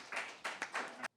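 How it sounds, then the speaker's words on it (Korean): Brief warm applause from a church congregation welcoming a preacher to the pulpit at a Wednesday service, a short burst of several clap swells over about a second, fairly faint and distant. "따뜻한 박수로 모시겠습니다."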